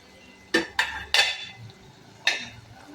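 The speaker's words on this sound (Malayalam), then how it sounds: "മല്ലിയിലയും ഇട്ടിട്ട് ഇളക്കി യോജിപ്പിച്ച് വീണ്ടും അടച്ചു വയ്ക്കാം." A spoon scrapes and knocks against the pan while prawn roast with curry leaves and coriander leaves is stirred, four distinct metallic clinks with soft shuffling between them.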